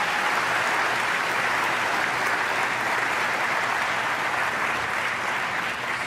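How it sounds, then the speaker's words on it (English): Sustained audience applause at the opening session of the American Heart Association's Scientific Sessions 2016, a dense, even wash of many hands clapping that holds steady throughout with no talking over it. "Please join me in a round of applause for Drs. Selke, Peterson, and the entire Committee on Scientific Sessions program."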